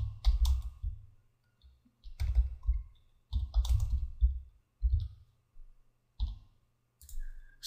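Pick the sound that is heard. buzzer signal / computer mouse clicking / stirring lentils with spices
computer mouse clicking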